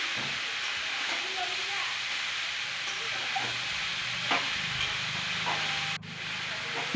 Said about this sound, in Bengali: এবার বাঁধাকপিগুলো দিয়ে দিল, দিয়ে একটু নাড়াচাড়া করছে